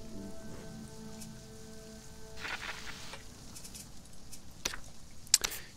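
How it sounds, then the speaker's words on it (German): Black rain falls in the video game Sheltered as a soft, continuous patter, with faint game tones at first and a couple of brief clicks near the end. "Der schwarze Regen macht das hier kaputt"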